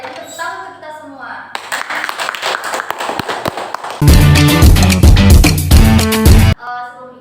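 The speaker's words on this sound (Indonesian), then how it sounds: "Jadi tepuk tangan untuk kita semua." Students in a classroom clap together in a burst of sharp, close hand claps that grows louder and more crowded, with voices of children and a teacher around it.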